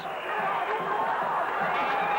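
A big cricket crowd roars and cheers after a huge hit by Shahid Afridi, a broad sustained swell of many voices under a commentator's talk.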